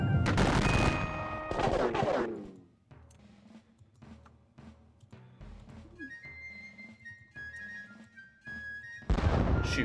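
Gunfire volley sounds from a Gettysburg wargame: a loud burst of rapid shots up front, a quieter stretch of scattered clicks and tones, then another loud blast at the end.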